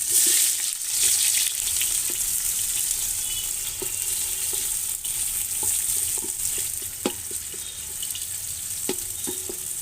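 Bay leaf and chopped onion sizzle steadily in hot oil, a constant bright crackle with occasional stirring clicks, close and fairly loud, no talking.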